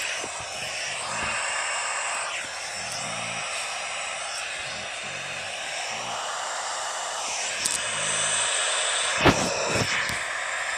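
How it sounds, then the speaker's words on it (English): Airliner engines running steadily after start in a flight simulator, a continuous broad roar with a faint whine, heard alone with a few brief clicks and no talk. "Engine 2 and 1 is started."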